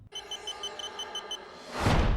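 A Delkim Tx-i Plus carp fishing bite alarm gives a steady run of rapid electronic beeps up close. A brief whooshing rustle follows at the end.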